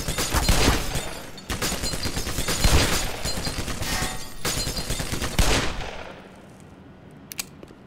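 Rapid bursts of gunfire in Black Mesa: Xen, loud and close, volleying in clusters for about six seconds before tapering to a quieter tail with a lone faint shot near the end.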